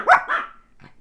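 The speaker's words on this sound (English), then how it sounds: "the girls are barking" Dogs give a quick pair of close, sharp barks in a home, followed by a softer short yip.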